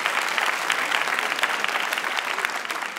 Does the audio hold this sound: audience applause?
yes